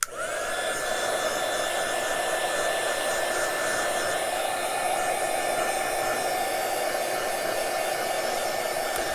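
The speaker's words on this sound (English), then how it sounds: "The thing about the heat gun is that it doesn't blow them all around either." A heat gun blowing hot air with a loud, steady whooshing whine that spins up at the start and holds constant, close by and uninterrupted.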